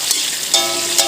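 Grasshoppers frying in a pan while being stirred, a loud steady sizzle with a few scraping strokes of the spoon coming through close up.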